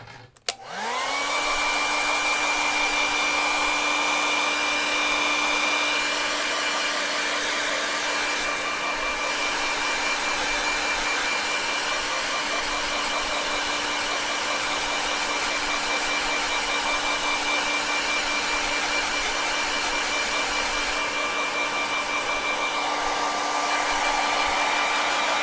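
A hair dryer blows steadily on fresh paint on a Halloween pumpkin painting, a loud continuous whine and rush that starts abruptly and runs unbroken for about 25 seconds with no talking.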